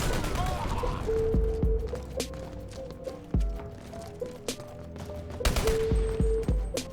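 Gunfire in the online shooter game Dirty Bomb: sharp single shots and quick bursts at irregular intervals, fairly loud, with a player talking over the action.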